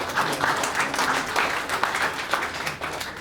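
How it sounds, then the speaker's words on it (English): An audience at a community business gathering claps together, a moderate, continuous patter of many hands with slight swells, heard alone at mid distance for a few seconds. "Sorry, I forgot about the clapping bit."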